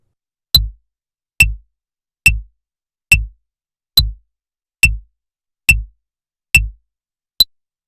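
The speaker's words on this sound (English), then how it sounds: "Sounds like this with a drum on Soundtrap." Quarter notes played on a drum in Soundtrap, nine evenly spaced single hits with a short low thump each, loud and isolated with silence between, the last one shorter and clipped.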